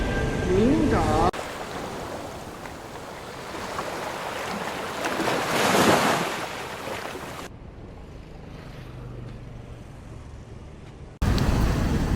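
Ocean waves along the coast at Da Nang, Vietnam, roll in as a loud, continuous rushing wash with wind buffeting the microphone. The sound drops to a quieter murmur partway through and then returns loudly.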